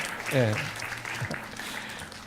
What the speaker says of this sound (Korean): 우리 박수로 한번 따뜻하게 환영해 주시기 바라겠습니다